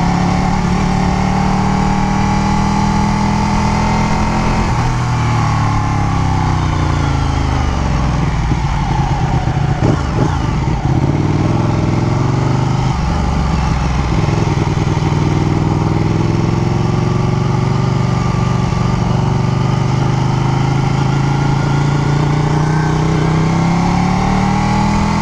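A Ducati Panigale 1299 motorcycle engine runs loud and close throughout, a steady deep drone with rising and falling revs and no speech over it.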